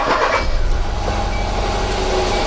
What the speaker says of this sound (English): let's go in the vehicle and start the engine